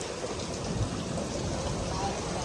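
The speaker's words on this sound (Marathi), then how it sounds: "लय पाऊस, वारण लय पाऊस." Heavy rain pours down during an outdoor wedding, a dense, steady hiss of downpour with a faint low rumble beneath, continuous throughout.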